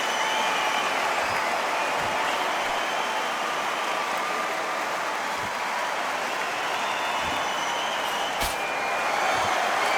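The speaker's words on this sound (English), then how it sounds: "So a capacity crowd here for this one." A capacity crowd at a boxing match keeps up a steady, loud, roaring wash of noise for the whole stretch, with a few sharper bursts rising out of it.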